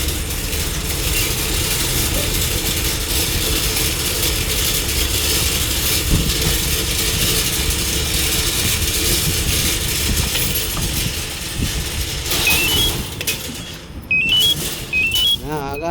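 A car started with a remote starter settles into a steady engine idle, a continuous close rumble under a speaking voice, with brief chirps and mechanical clicks near the end.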